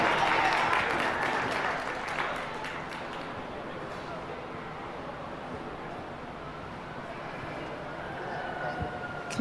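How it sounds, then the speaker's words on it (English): Applause from the crowd at a youth goat showmanship contest for the winners, loudest at first, then a steady soft patter of clapping that continues through the clip, somewhat distant in a large show barn. "Give them all a big round of applause."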